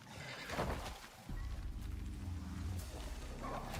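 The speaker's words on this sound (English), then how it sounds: "No! That was a horse." A horse in the survival video game Icarus gives a loud whinny at the start, followed by a rumbling snort and clip-clopping hooves, with no talking over it.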